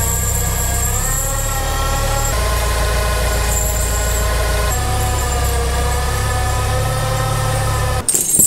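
A tractor engine idles close by, a loud steady low rumble with a slight shift in its tone partway through and a short clatter at the end.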